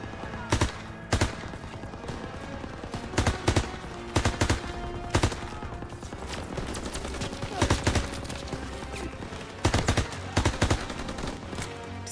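Machine gun fire from an MG nest in a hayloft in Call of Duty WWII rattles in repeated bursts. Several sharp, loud clusters of shots punctuate a steady battlefield din across the span.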